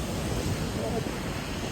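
Rough, churning sea crashes at the pier in Gdynia, a dense roar of surf mixed with wind buffeting the microphone, loud and continuous.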